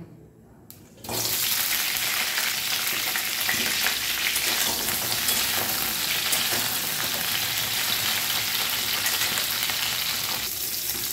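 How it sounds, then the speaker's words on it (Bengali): Cauliflower florets hit hot oil left over from frying potatoes for a Bengali cauliflower-potato curry, and a loud, dense, continuous sizzle starts abruptly after a quiet second and holds steady up close with no talking. "ওই তেলের ওপরেই ফুলকপিগুলো এবারে ভেজে নেব"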